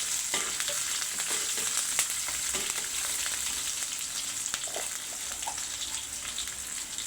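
Green chillies, onions and curry leaves fry in a pan, giving a loud, steady sizzle with frequent scraping clicks from stirring throughout.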